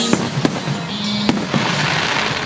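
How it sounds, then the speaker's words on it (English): Fourth of July fireworks bursting outdoors: sharp bangs at the start and middle stand out over a steady crackling, hissing wash, with no talk. "These fireworks were for the 4th of July, near the beginning of the month."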